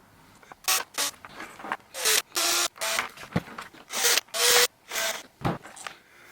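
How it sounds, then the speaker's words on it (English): A screwdriver turns screws to free pickups from a Fender Stratocaster pickguard, giving a series of short, close scraping and ratcheting bursts in an uneven rhythm, each separated by brief pauses. "I'm just going to unscrew them and lift them off the pick guard"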